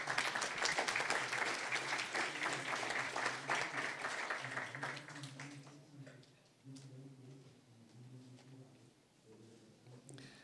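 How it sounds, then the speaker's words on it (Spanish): An audience at a panel debate on marijuana ethics and rights applauds loudly for several seconds. The clapping then fades, and a single voice begins speaking. "Les pido de nuevo un aplauso para que inicien."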